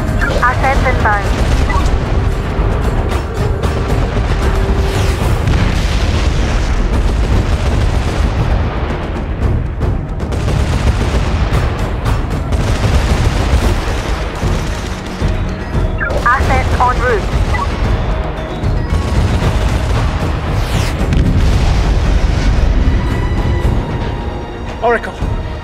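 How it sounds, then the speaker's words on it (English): Continuous loud gunfire and booming explosions from the shooter game SOCOM 4 fill the scene, a dense battle din with radio voices talking over it throughout. "We're taking fire."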